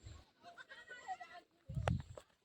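Goats in a family herd bleat, a few wavering calls followed by a louder close cry, with faint murmuring voices and rustling in between.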